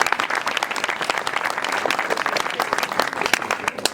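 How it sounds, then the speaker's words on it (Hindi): Loud, dense applause from a congregation at a sermon, sustained steady clapping filling the whole stretch with no pause. "मैं चाहता हूं इस खादिम के लिए जोरदार तालियां बजाइए।"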